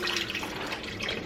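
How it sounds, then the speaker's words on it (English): Bone broth pours into a pot of keto ramen noodle soup, a brief, steady liquid splashing and trickling close by, with no voices over it. "We're gonna start adding our bone broth."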